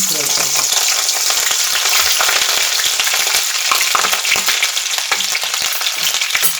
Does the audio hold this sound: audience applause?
no